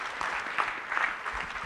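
Continuous applause from an audience at an event honouring its sponsors, a dense, even wash of many hands clapping heard close and steady for the whole short stretch.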